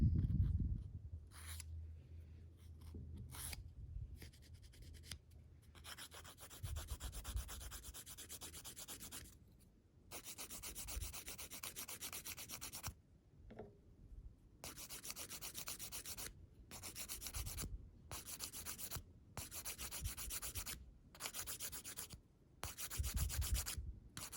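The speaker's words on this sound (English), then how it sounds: "when you file, you don't want to create a flat spot, so that's why I just go in very lightly with it" Nail file lightly stroking dip powder nails, soft close rasping rubs in quick, regular bursts separated by brief pauses, quiet and alone.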